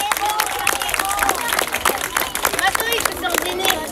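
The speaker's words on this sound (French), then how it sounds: "On peut l'applaudir très fort." Spectators and players at a youth U10–U11 football tournament prize-giving clap for a young player, a lively burst of close applause mixed with some cheering and voices.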